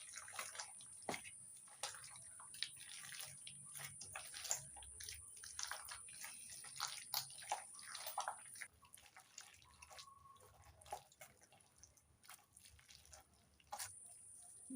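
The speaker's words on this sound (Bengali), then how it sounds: "জলের সঙ্গে তালের আঁশ ভালো করে চটকে নিয়েছি" Hands squeezing and kneading soaked palm fruit fibres in a little water, giving a steady run of wet squelches, drips and small splashes, close and fairly quiet, with no talk.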